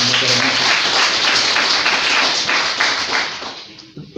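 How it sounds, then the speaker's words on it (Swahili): A church congregation breaks into loud, sustained applause, many hands clapping together in a dense, steady wash that fades slightly toward the end. "Tupige Bwana Yesu makofi"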